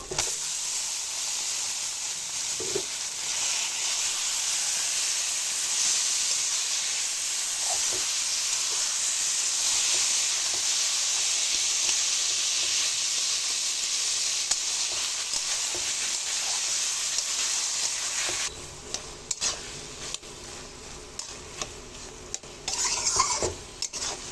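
Drained taro stems stirred in hot oil produce a loud, continuous hiss and sizzle with occasional scrapes and clinks of a spoon against the pot, easing slightly toward the end as stirring continues.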